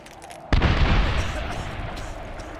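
A grenade blast and gunfire in the Medal of Honor video game, one sudden loud boom followed by a rumbling, slowly fading tail, with battle voices nearby.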